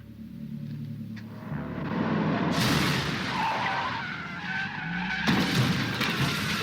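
In a Terminator movie scene, a car skids with squealing tires over a heavy engine rumble, the noise surging louder in two bursts midway and near the end.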